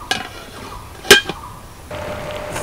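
A metal lid clanks sharply onto a cooking pot of banana flower in water, a single bright clink with a short rattle after it, followed by a soft steady simmering hiss.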